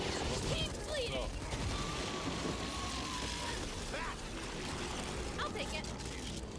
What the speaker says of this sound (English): Warmer. Light machine gun.